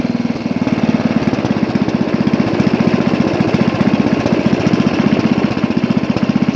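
Rare 1983 Briggs & Stratton 8hp Sno-Gard winter engine running at low throttle around 1,750 RPM, a loud, steady, close-up chugging putter with an even, rapid firing rhythm.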